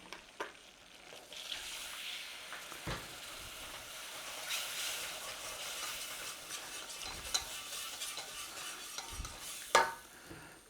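A spoon stirs milk into a thickening moussaka sauce in a pan, giving soft continuous swishing with occasional sharper clinks and scrapes against the pan, close and fairly quiet.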